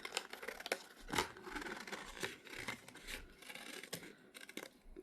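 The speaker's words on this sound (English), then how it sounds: "I was using my nice yarn scissors I use to cut" Yarn scissors snip through crochet yarn from a Michaels Christmas kit, giving several quiet, crisp cutting and rustling sounds at irregular intervals, close-up with no talking.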